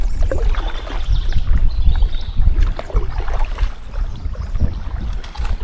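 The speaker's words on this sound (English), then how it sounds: "I often like to paddle under a willow" Kayak paddle strokes splash and swish through water in an irregular rhythm, with wind buffeting the microphone throughout.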